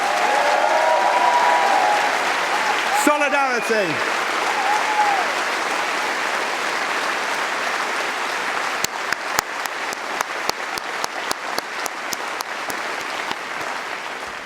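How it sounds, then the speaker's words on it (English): A hall full of party conference delegates breaks into sustained applause, dense clapping that holds steady for several seconds and then thins into scattered sharp claps, with a voice calling out briefly over it. "Conference, let's give them a round of applause."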